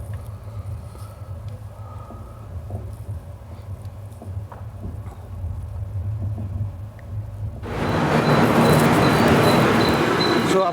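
Saurashtra Janta Express running between Palghar and Virar, a steady low rumble of the moving train with rising noise, then a sudden loud broadband roar near the end as the clatter and rush intensify.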